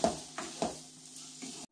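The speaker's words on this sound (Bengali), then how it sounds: "জিরে আর ধনের গুঁড়ো দিয়ে ভালো করে আমি মিশিয়ে নিচ্ছি।" Chili, cumin and coriander powder being stirred in a cooking pan, a few short scraping strokes over a soft sizzle, close and fairly quiet.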